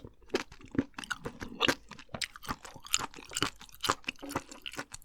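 Close, crisp crunching and chewing of crunchy vegetables and chewy whelk in a spicy Korean salad, with rapid irregular bites and wet mastication sounds continuing throughout with no talking.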